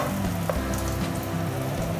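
A shrimp pancake frying in a pan for a traditional fishing-village dish, giving a dense, continuous crackling sizzle close by, fairly loud and unbroken, with no voices.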